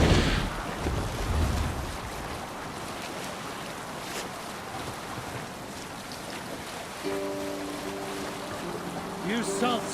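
A Viking longship under sail in Assassin's Creed Valhalla, steady water wash and wind rushing past the hull, fairly quiet, with speaking voices over it and a brief tonal game cue late on.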